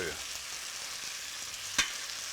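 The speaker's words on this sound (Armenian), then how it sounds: "Իսկ բանջարեղենները մենք սովորաբար տապակում ենք քիչ, շատ քիչ" Vegetables frying in a pan for a meat-and-vegetable dish, giving a steady, even sizzle with one sharp utensil clack near the end.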